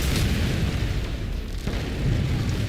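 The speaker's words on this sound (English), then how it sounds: "Because more explosions, they're quite loud." Explosions in the space video game No Man's Sky form a continuous, loud, low rumbling barrage of booms with no clear gaps between blasts.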